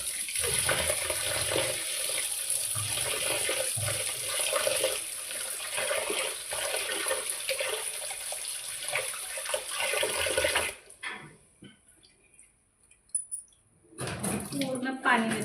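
Water running steadily from a tap while an item with a strong smell is rinsed by hand, a continuous splashing hiss that stops abruptly, followed by quieter handling noises and a brief resumption.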